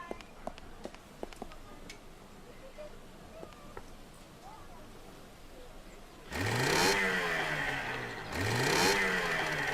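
Motorboat engine in the video game Secret Files 2, starting after scattered clicks and taps, roaring loudly with a dip and a second rising surge, like a revving outboard close by.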